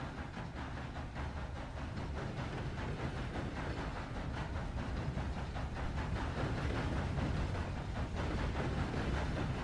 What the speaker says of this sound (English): I can even like hear dripping water in here until the train starts to get closer